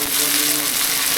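Soybean kebabs frying in a medium pan, a brief loud hissing sizzle heard close up with music faintly behind it.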